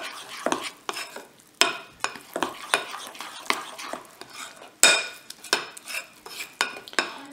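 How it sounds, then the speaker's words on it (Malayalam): Kerala black halwa stirred in a pressure-cooker pan: about fifteen crisp, uneven scrapes and clinks of a metal spoon against the pan over a faint sizzle, close and loud, no voices. "നന്നായി ഇളക്കിയെടുക്കുക."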